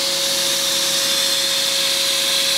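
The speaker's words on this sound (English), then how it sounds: "So sound of the vacuum." The vacuum on a Dillon 1050 case trimmer for 5.56/.223 brass runs as a loud, steady rushing roar with a constant whine and no talk.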